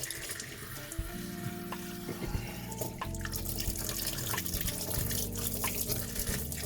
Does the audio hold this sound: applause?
no